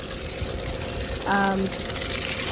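Water runs steadily as seedling buckets of soil are given a deep watering, a continuous gushing flow with a brief voice sounding partway through.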